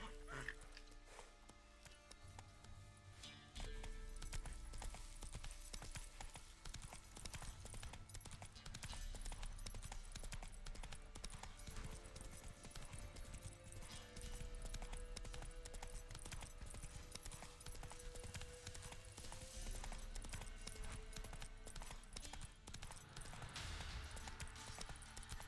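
Horse hooves clopping steadily in the video game The Witcher 3, a continuous rhythmic run heard under a dense bed of game music and ambience.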